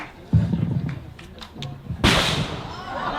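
Commemorative cannon fire at a July 4 commemoration of the 1778 Battle of Wyoming in Pennsylvania, one loud, sharp boom with a rumbling tail that cuts in right after someone speaks into a public address system outdoors.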